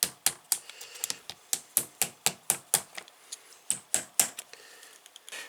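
Sharp metallic taps on turbo bolt anti-loosening lock tabs being bent over, about twenty close, crisp strikes in an irregular rhythm, ringing briefly and standing alone.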